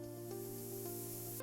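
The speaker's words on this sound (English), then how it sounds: "All right, I'm spraying this section now." A pressure washer sprays an ivy-covered wall with a continuous, steady hiss and broad rushing spray, plus a constant motor hum, close and uninterrupted for a short moment.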